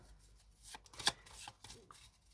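Cards are drawn from a deck with soft papery slides and flicks, several brief rustles scattered through a quiet room, one sharper snap near the middle.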